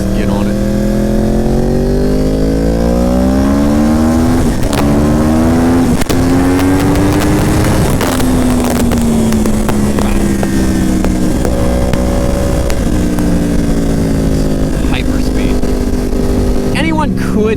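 A Yamaha R1 sport motorcycle engine revs up and down repeatedly, loud and close, with rising and falling pitch sweeps over steady idle.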